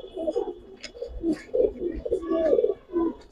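Giribaz highflyer pigeons coo in soft, throaty, rolling bursts, several birds overlapping close by in a loft, with faint chirps above the steady murmur.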